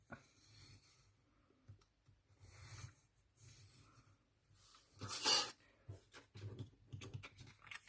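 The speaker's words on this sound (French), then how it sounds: "je vais venir tracer une ligne" Soft scratchy strokes of a pen drawing across paper, in short bursts with pauses, close by and fairly quiet.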